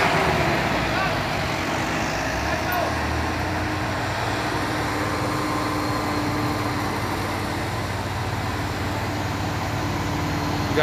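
A tanker truck struggling on an uphill road, a steady low engine drone with road noise, moderately loud and unbroken throughout.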